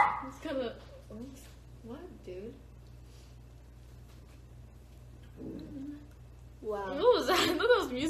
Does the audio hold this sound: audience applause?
no